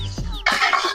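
A chicken gives a brief, loud squawking cluck up close, a single harsh burst in the second half after a few softer low rustles.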